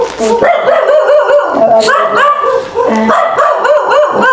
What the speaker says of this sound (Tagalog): ingay naman ng aso